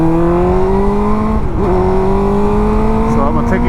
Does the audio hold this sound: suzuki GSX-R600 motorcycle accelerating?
yes